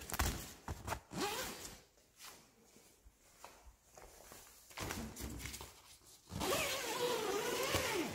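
A zipper on the door of a Grande dome shelter tent is pulled in several short runs, with rustling fabric and handling noises between them. The pulls are close and moderately loud, and the longest sustained one comes near the end.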